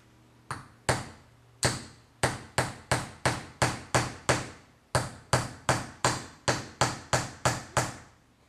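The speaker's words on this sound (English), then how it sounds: "Bit tricky getting both these nails in because they're very close to each other." A hammer drives nails into a wooden pencil box drawer, with about twenty sharp, ringing taps in two quick runs separated by a short pause, close and clear with no talking.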